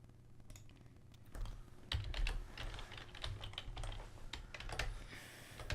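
Typing on a computer keyboard during game coding, a continuous patter of soft, close key presses with brief pauses and a few heavier clusters, no voices.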